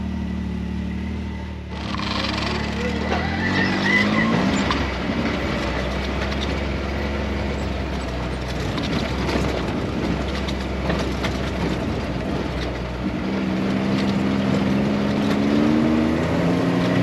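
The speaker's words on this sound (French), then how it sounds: "C'est une motocross à 4 roues." Can-Am four-wheel off-road vehicle driving along a small track, its engine droning steadily and loud throughout with rising and falling pitch as it speeds up and slows, after a brief quieter start.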